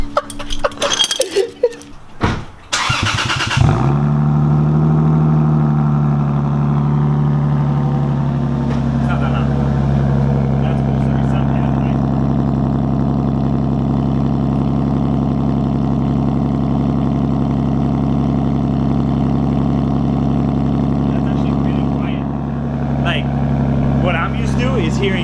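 A custom exhaust on a Lexus IS300 rumbles through a cold start, a few clinks before it catches, then settles into a deep, steady gurgle that holds under nearby voices.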